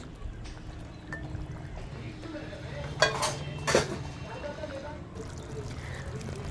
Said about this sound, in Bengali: তো ঝোলের মধ্যে মাছগুলোকে সুন্দরভাবে আমি ডুবিয়ে দিচ্ছি